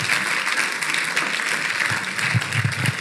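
A congregation applauds during a church sermon: a steady, dense wash of clapping from many hands that holds evenly throughout, with no talk over it.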